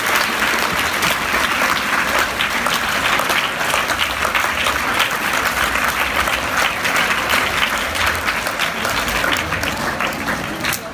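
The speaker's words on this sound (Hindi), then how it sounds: "मैं चाहता हूँ कि तमाम तलबा ज़ोरदार तालियों से" Students at a school event break into loud, sustained applause, a thick continuous roar of clapping hands that stays strong throughout, with faint voices mixed in.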